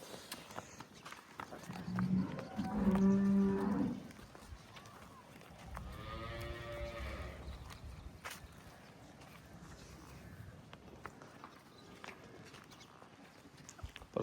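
Red Friesian and Cholistani cross heifers and cattle at a farm give a couple of deep, drawn-out moos close by, with faint shuffling hooves and quiet background noise between the calls.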